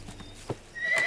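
A horse neighs loudly near the end, a rising whinny following a few soft hoof clops, in a scene from a Hindi Bollywood romantic drama film; no speech.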